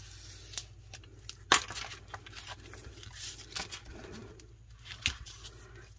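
Scissors cutting through a Dollar Tree gift bag, giving quiet crinkling and tearing paper sounds with a few sharper snips, close and soft over a low steady hum.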